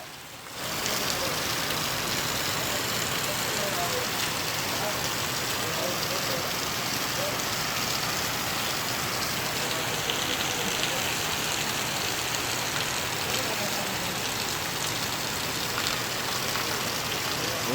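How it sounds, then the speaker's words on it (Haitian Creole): Heavy rain pours steadily in Santo Domingo, a dense, unbroken hiss of drops on surfaces that holds at constant loudness throughout, with a faint engine murmur low in the mix. "Men lapli, men sak lapli."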